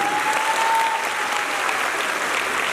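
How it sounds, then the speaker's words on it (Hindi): Steady applause from a theatre audience at an Urdu stage play about transgender lives, a dense continuous clatter of many hands that stays loud for the whole stretch with no talk over it. "सब भरपूर तालियां इनके लिए।"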